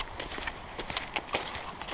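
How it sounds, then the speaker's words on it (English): Quiet, steady footsteps thud on hollow boards at a walking pace, with faint outdoor ambience around them. "We're walking along a nice wooden bridge."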